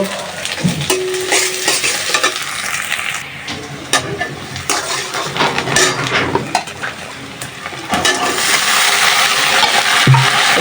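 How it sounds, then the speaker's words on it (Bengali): Bitter gourd frying with plenty of onion and green chillies sizzles loudly in a pan, with frequent stirring scrapes and clanks of a utensil against the metal, close by and without talk. "প্রথমে করলা ভাজিটা বসাই দিলাম"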